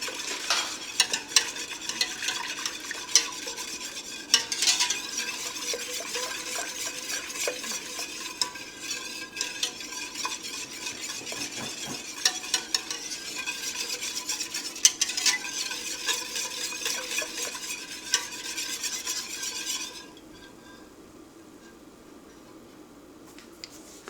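A utensil steadily stirs egg yolks in a bowl for ice cream custard, a continuous close scraping and clicking that runs for about twenty seconds and then stops, leaving quiet room tone.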